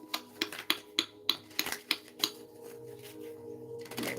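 A tarot card deck being shuffled by hand, with a run of about eight crisp, evenly spaced riffling snaps close by, then a quieter rustle at the end.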